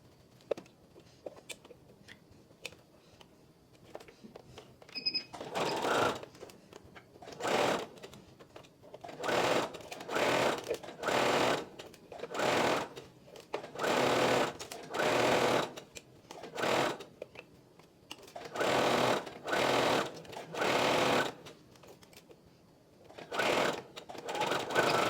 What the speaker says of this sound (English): just sew it with your normal sewing machine.